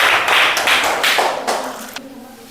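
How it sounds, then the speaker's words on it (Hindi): Children clapping loudly together in a classroom, a dense burst of applause that fades out after about two seconds, with no voices over it. "और जोरदार ताली से आप लोग इनका स्वागत भी करेंगे"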